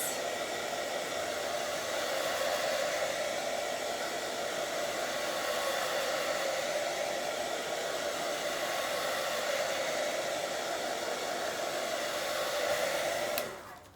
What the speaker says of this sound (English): I'll quickly put a bit of hairdryer on that